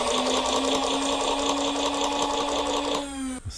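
Motor of a Nerf Pulse Rifle firing fully automatic with no darts loaded, a close, steady high whirring buzz with rapid mechanical ticking that winds down sharply at the end.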